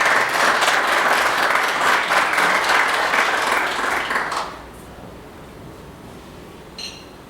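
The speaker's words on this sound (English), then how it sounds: "Let's give him a round of applause." Audience applause at a community connection breakfast at St Benedict's, steady and full for about four and a half seconds, then stopping abruptly into near silence with a faint brief sound near the end.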